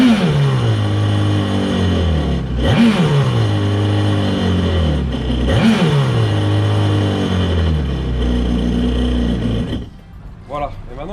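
A jet ski engine idles steadily and loudly while water is flushed from it during winter maintenance. Two revs swell and fall back, then the engine cuts out near the end.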